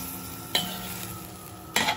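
Beef mechado stew being stirred gently in a pot, a soft continuous churning with two brief louder scrapes of the spoon against the pot, close and alone with no voices.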